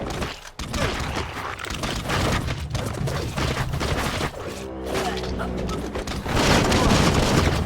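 Dense enemy gunfire and booming impacts fill a Biomutant fight, loud and continuous with shifting bursts, crashes and mechanical clatter, swelling heavier toward the end.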